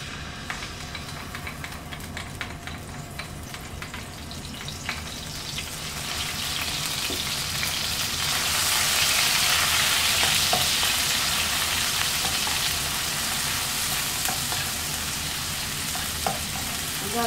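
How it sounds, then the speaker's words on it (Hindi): Garlic is dropped into three tablespoons of hot oil and fries with a steady close sizzle that swells louder partway through and stays strong, broken by a few light clicks of a utensil, with no talking. "ये 3 टेबल स्पून ऑयल डाला है, ये गरम हो गया है। अब इसमें सबसे पहले एक गार्लिक डालेंगे,"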